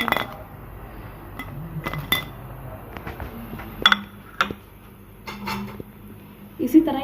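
Fried chicken and potato rolls are lifted out onto a plate in a kitchen, with scattered clinks and scrapes of utensils against dishes and a few sharper knocks between quiet gaps, while someone talks softly underneath.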